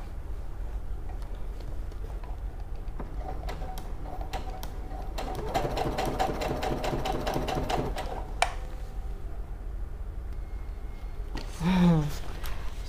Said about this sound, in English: I will just start sewing and we'll see how it goes.